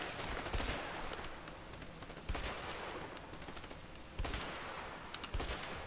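Rapid gunshots in A Way Out, several loud bursts of automatic fire with sharp onsets roughly every two seconds, each trailing into a dense rattling wash, no voices.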